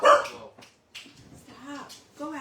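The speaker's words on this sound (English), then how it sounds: "My dog's crazy." Outdoors, a dog gives a sharp bark up close, followed by a few softer yips and whimpers, with people talking nearby.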